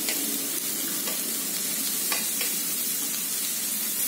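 Shredded cabbage sizzles and fries in hot masala inside a kadhai, a continuous loud hiss broken by occasional stirring scrapes, close up with no talk.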